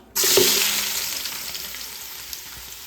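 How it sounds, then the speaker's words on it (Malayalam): Onions dropped into hot ghee for biryani, with a sudden loud sizzle burst on contact that settles into a steady, gradually fading frying hiss, close up and without talk. "സോ ദിസ് ഉള്ളി വാട്ടി കൊടുക്കണം"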